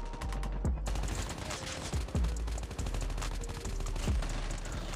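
Gunfire from the mobile game Call of Duty Mobile, with several sharp, loud shots fired in quick succession, including a headshot, close up and ringing over background game sound with no talk.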